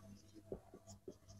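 Chalk or marker writing on a board during a class, a few faint short strokes and taps in a quiet room.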